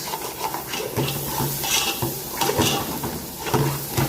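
Onion and tomato are stirred continuously in a pan as a spoon scrapes and clinks against the metal in quick, uneven strokes, with a light sizzle underneath.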